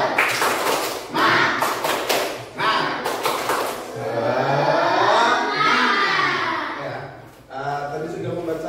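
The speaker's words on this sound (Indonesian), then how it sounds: "Baik, Pak Guru, kita tepuk semangat dulu ya." A classroom of pupils doing the rhythmic Indonesian 'tepuk semangat' clapping chant, with sharp clustered claps in bursts early on, then children's voices chanting together, fairly close and loud.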